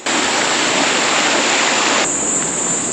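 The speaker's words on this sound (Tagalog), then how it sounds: "Talon." Waterfall on the Atago River in Hamamatsu, Japan, a loud, steady roar of falling water filling the whole stretch with no voices.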